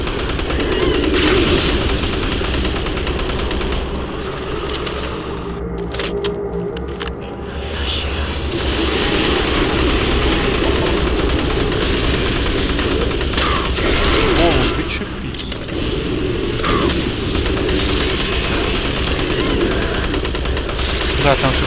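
Rapid bursts of automatic gunfire and explosions from the video game Doom 3 fill the scene continuously, loud and dense, with a brief lull midway.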